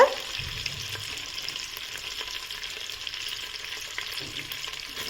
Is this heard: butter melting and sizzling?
yes